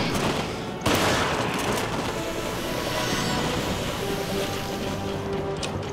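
A loud shotgun blast in Resident Evil Revelations is followed by a long rumbling, roaring wash of noise that stays dense and close to the end, with no talk.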